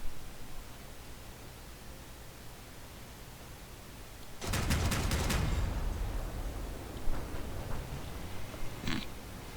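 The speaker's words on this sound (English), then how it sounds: "Those shots went further backwards than I thought they would land right here." Weapon shots fire in the Crossout vehicle combat game, a quick burst of several loud cracks halfway through over a steady noisy background, followed by fainter scattered impacts.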